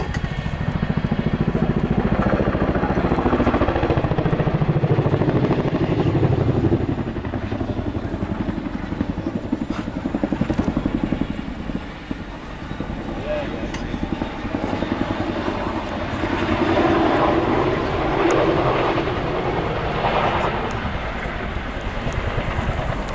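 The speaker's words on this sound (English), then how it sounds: "It's almost 100 feet long, the Chinook. It is a large machine." A Chinook twin-rotor helicopter, nearly 100 feet long, flies at the RIAT air display, producing a loud, continuous rotor-and-engine roar that swells and eases slightly throughout, with no clear talk.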